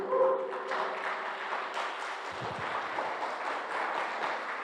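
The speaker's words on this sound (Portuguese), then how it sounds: "Vamos aplaudir Jacó porque ele conseguiu." A church congregation claps together during a worship service, a steady broadband patter that holds evenly through the clip at moderate distance with a faint tonal hum early on.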